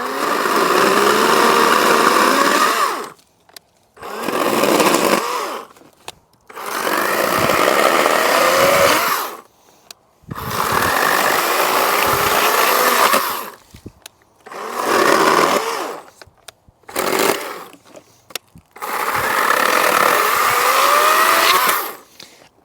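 A Badger electric chainsaw whines loudly in repeated bursts of several seconds each, cutting through branches, separated by brief quiet pauses.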